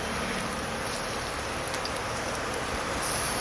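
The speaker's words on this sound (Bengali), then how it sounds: "এরকম সময় এর মধ্যে একটুখানি পেঁয়াজটাকে ভেজে নিতে হবে" Onion frying in a pan while cooking a pumpkin curry: a steady, dense sizzle and crackle throughout, even and close, with no talk.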